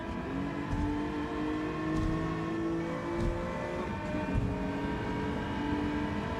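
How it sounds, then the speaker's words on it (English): A Nissan VQ V6 engine drones steadily in a racing video game, with a trumpet-like, harmonic tone. The note holds at a constant, fairly loud level throughout, with slight pitch shifts and no talking. "the VQ engine absolutely can sound quite trumpety"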